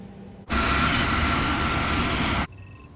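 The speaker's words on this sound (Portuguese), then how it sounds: "À medida que os aviões se aproximam da pista" Airliner on approach to Zurich airport at night, a loud steady engine roar sweeping in abruptly and holding for about two seconds before cutting off, with no voices.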